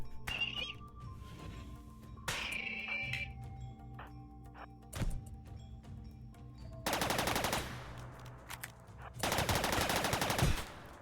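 Bursts of video-game gunfire from RimWorld, two long, loud broadband volleys near the end after scattered single sharp shots and brief whinny-like cries earlier, no talking.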